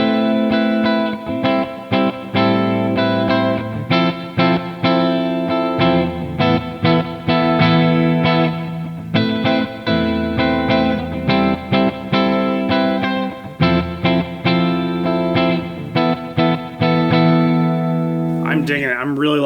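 Electric guitar played through an amp's clean channel turned all the way up, loud chords and single notes ringing in steady rhythmic strums with a slight tail at the end, no talking.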